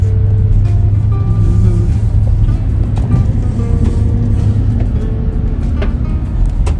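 A car cruises along a countryside road. A steady, close engine and tyre rumble runs throughout, with faint passing noises layered on top.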